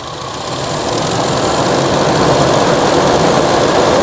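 A motorcycle engine idles at a steady, constant drone while its carburetor is being tuned, close and fairly loud, with no talking.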